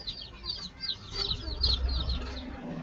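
Background noise picked up on an open microphone during an online video call, with repeated bird chirps and clucks like a rooster or chickens over a steady low rumble of street traffic.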